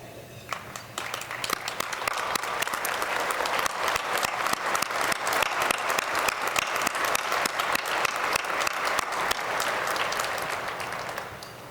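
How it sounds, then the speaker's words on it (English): Award finalists and past winners at the 2013 Small Business Awards draw sustained audience clapping that swells quickly after a quiet start and holds at an even, crowded roar until the end. "let's ask this year's finalists, along with all past winners, to stand and receive our applause"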